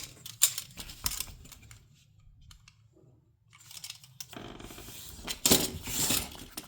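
Short crisp cuts and scrapes through a piece of EVA foam, close and fairly quiet, arriving in two bursts separated by a near-silent pause.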